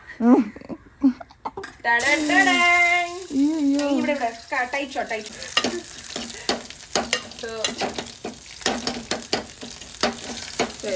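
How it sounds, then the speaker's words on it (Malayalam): Shallots, curry leaves and green chillies hit hot oil in a pan, a bright sizzle with scattered stirring scrapes, while a voice talks over it at the start and some background music runs along. "ചുവന്നുള്ളി, കറിവേപ്പില, മുളക് ഇടാം."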